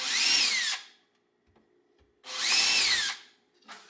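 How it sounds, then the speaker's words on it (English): A power drill marks a hole in a wall while shelves are being built. It whirs up loudly and close by in two sustained bursts, then a brief third start, with quiet gaps between them and no talking. "mark it with my drill here."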